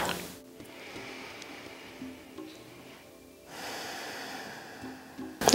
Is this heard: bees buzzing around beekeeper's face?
no